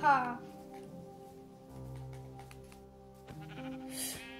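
Sheep bleating in Minecraft, a couple of short wavering bleats over steady game music, with someone talking.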